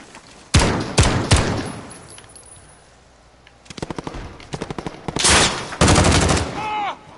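Rapid machine gun bursts in the video game Modern Warfare, several sharp loud volleys separated by short pauses, with a quieter gap in the middle and voices talking in between.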